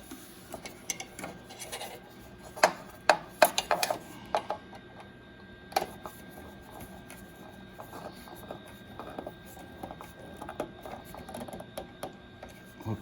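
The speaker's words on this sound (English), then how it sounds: "it's a changeable screwdriver, turns into a screwdriver. And now I'm gonna go ahead and screw this in" A ratcheting screwdriver driving a screw into a part on a cap embroidery machine, heard up close as a string of sharp clicks and ticks, denser at the start, then sparse and quiet against a faint steady hum.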